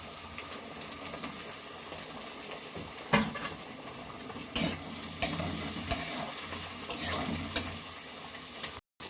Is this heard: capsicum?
yes